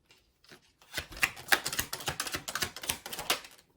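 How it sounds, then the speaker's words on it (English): Tarot cards being shuffled by hand, a quick run of crisp riffling clicks and flutters that builds after a few soft taps and continues for several seconds, close and fairly quiet, with no voices. "If I can shuffle the cards."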